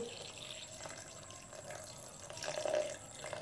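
A little water is poured into peach juice during home juice-making, a faint, soft trickle and splash against low room noise, rising briefly near the end.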